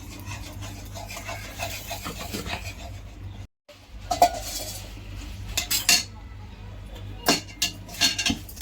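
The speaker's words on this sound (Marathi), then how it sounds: "आता आपण त्यामध्ये मुरमुरे घालूया" Puffed rice stirred into hot sugar syrup for Makar Sankranti murmure ladoo, giving a dry, crunchy rubbing and scraping with intermittent sharp clinks of a spoon against the pan, close and steady apart from a brief pause.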